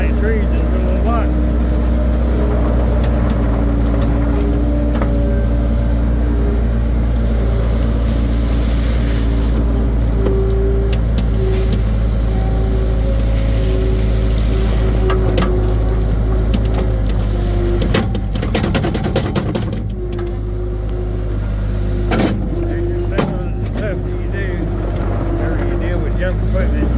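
A skid steer loader engine runs loud and close in an outdoor lot, a steady diesel-like drone with strong low harmonics that swells and dips slightly as the machine works, with brief rustling bursts partway through.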